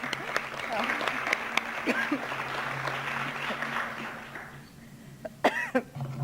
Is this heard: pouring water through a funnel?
no